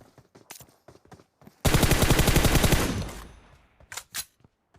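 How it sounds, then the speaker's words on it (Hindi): A burst of rapid automatic gunfire in PUBG Mobile rattles for over a second, bracketed by scattered single shots and soft clicks, with a couple of louder pops near the end. "वो बंदा सामने खड़ा होके गोली चला रहा है"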